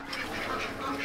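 Ducks on a farm, among them a green-headed mallard drake, quack steadily and close at hand with no talk.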